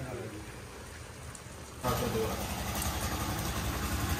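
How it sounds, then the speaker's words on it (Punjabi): Rain falls outdoors in a village, a soft, steady hiss of drops that swells suddenly partway through and keeps going. A low engine-like rumble sits underneath. "ਮੀਂਹ ਵੀ ਪੈਣ ਲੱਗ ਗਿਆ"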